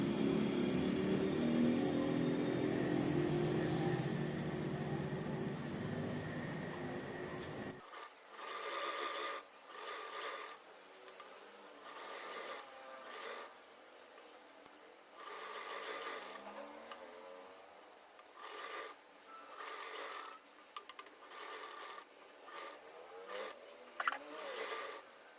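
A sewing machine stitching lining onto a blouse, first a steady dense whir, then stop-start runs of rapid needle chatter in short bursts, close and moderately quiet.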